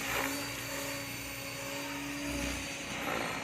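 A Logo 600 RC helicopter whirs steadily with a high whine and buzzing rotor hum, close by and fairly quiet, running continuously without talk.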